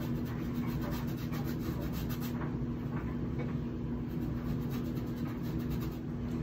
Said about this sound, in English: You can see why I'm using a bristle brush, because this scumbling underneath layer can tear your brush out.